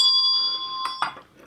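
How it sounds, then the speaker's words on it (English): A traditional timer bell rings with a clear sustained metallic tone that slowly fades, followed by two short dull knocks near the end. "And the traditional timer would have been the bell."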